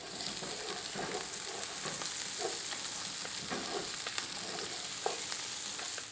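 Finely chopped red onion fries in oil in a pot for beef stew, making a steady, close hiss and crackle. Soft stirring scrapes and small pops occasionally rise above it throughout.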